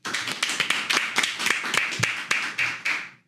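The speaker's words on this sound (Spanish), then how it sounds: "Un aplauso," A short burst of audience applause at a panel event, made up of a few distinct hand claps that are sharp and fairly close, in an uneven rhythm.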